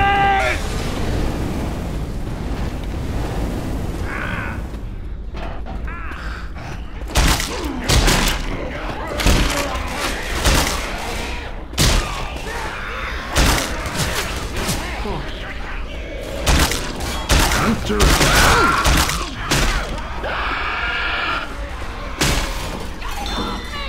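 Grenade explosions in the video game Left 4 Dead 2, several sharp booming blasts and thuds scattered over constant gunfire and chaotic game noise, with players shouting over the action.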